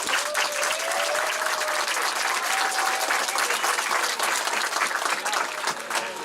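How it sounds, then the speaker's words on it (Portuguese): A church congregation at the inauguration of an Assembleia de Deus temple in Ibititá applauds, dense sustained clapping with a few voices calling out over it. "Uma salva de palmas para Jesus"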